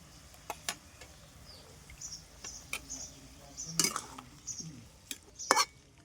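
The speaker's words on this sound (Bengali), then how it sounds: "ভালোভাবে নেড়ে চেড়ে ঢাকা দিয়ে মিডিয়াম আঁচে দুই থেকে তিন মিনিট রান্না করব" Mutton curry with garlic, ginger, green chili and cumin paste being stirred in a pot: sparse spatula scrapes and light metallic clinks, quiet and close, separated by soft pauses with a faint sizzle underneath.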